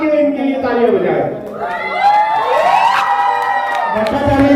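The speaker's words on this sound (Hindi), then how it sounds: "एक बार चिल्ला के इनके लिए तालियां बजाएं" A crowd at an award ceremony during a press gathering cheers and whoops loudly and continuously, with high shouting voices rising over the din and a voice talking over it.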